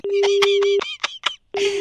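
A telephone number is dialed during a radio prank call: a steady phone tone and short dialing beeps sound close and clear, broken by a brief gap, with a voice talking over the tones.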